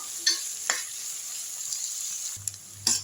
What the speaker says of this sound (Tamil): கொஞ்சம் கருவேப்பிலை போட்டுக்கலாம் அதுலேயே வதக்கி விட்டுருவோம் நல்லா வதங்கி வரட்டும்